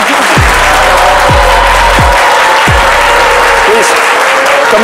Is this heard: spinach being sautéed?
no